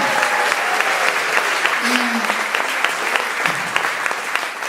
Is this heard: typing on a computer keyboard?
no